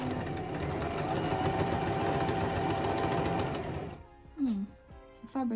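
A domestic sewing machine stitching in reverse on stretched fabric whirs steadily and close for about four seconds, then stops, followed by a few brief scraping, handling sounds.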